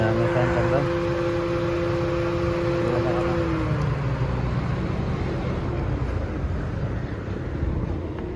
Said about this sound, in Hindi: अच्छा इसलिए लगाया हमें फैन चल रहा है।